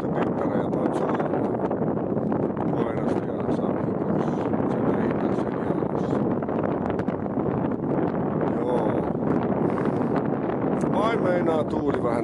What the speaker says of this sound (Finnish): Meinaa tuuli vähän ottaa.